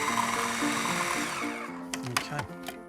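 An electric mixer whirs steadily while blending ricotta and chocolate into a cannoli filling, its motor hum running loud and even before winding down, followed by a few faint knocks.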